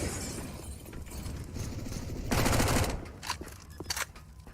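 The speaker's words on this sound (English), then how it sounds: "running and gunning with a Mac 10" Rapid MAC-10 submachine gun bursts in a Counter-Strike pro match on the Nuke map, a dense crackling volley peaking mid-clip, then scattered sharper shots fading, over game ambience.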